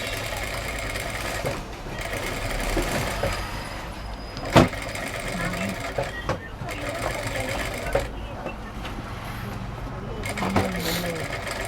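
A sewing machine stitches piping onto a blouse, running in a steady continuous whir with small clicks and brief pauses, close by, while someone talks over it.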